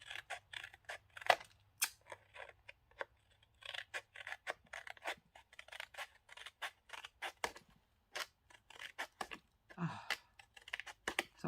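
Scissors snip through paper for a small envelope folio craft project, a quiet close string of short crisp cuts in uneven bursts with brief pauses between, and no voices.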